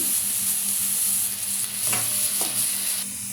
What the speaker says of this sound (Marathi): शिमला मिरची व्यवस्थित परतवून घेऊया